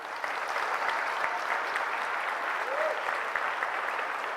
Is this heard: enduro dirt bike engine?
no